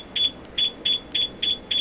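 Honda Fazzio scooter anti-theft alarm chirping in a parking area, six evenly spaced high-pitched double beeps repeating about every third of a second, fairly loud and close with no talking.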